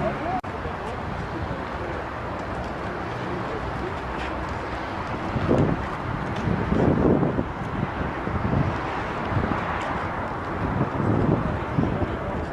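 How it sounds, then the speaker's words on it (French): Strong wind buffets the microphone in a continuous low roar, with heavier gusts swelling midway through, outdoors and without clear speech. "Oh, ce vent de merde."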